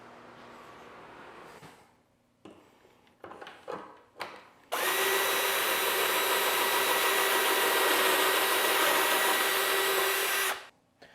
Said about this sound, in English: I'll try to catch some footage of drilling some of these holes